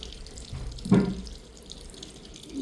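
Water runs softly from a tap as a face is washed, with a brief louder splash near the middle and a steady low trickle around it.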